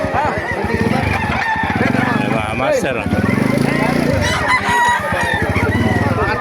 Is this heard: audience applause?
no